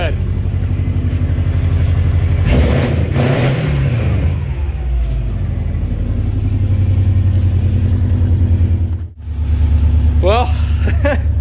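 Subaru fitted with a Tsudo catback exhaust and no silencer, revving hard with a deep, loud, raspy drone; a sharp rev burst near the start, then a sustained loud idle and brief dip before another rise, with people talking over it.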